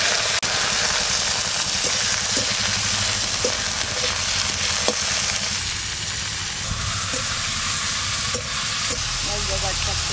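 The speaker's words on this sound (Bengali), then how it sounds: "তেল গরম হয়ে গেছে, দিয়ে দিচ্ছি কালো জিরে, কাঁচা লঙ্কা" Nigella seeds and green chillies hit hot oil and sizzle loudly, a dense continuous frying hiss with occasional pops and stirring clicks, no talking.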